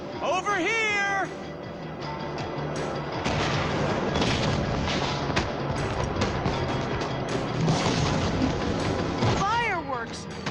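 Fireworks burst in Minecraft: Story Mode, a dense run of booms and crackles with rising, whistling tones at the start and end.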